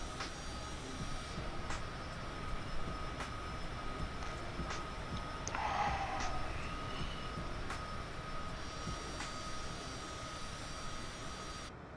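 Charter airliner engines held at climb throttle on the way out of Seattle, a steady, even jet roar with a constant hum, heard from inside the cabin or cockpit with a few faint clicks and no talking.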